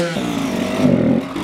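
A Kawasaki KX85 two-stroke motorcycle engine revs up close and loud, its buzzing note rising and holding before easing off over a second and a half.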